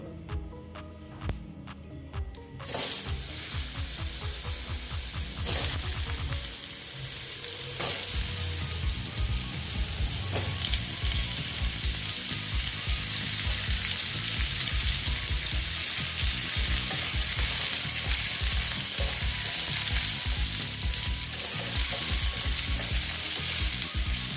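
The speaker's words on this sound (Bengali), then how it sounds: "মিষ্টি কুমড়োগুলো আমি ভেজে নিচ্ছি" Pumpkin pieces fry in hot oil with tempered spices for a vegetarian papad dish, a loud, steady sizzle that runs continuously after a few clattering knocks at the start.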